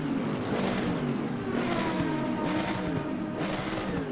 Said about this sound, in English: I really love the sound of the car.